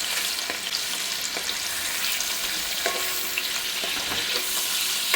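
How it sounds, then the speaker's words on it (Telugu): Paneer cubes frying in a pan, a steady close hiss and sizzle with light crackles and occasional stirring scrapes throughout. "ఇప్పుడైతే పన్నీర్ అయితే చక్కగా ఫ్రై చేసేసుకున్నాము"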